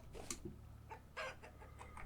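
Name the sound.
chickens clucking in the video game Vintage Story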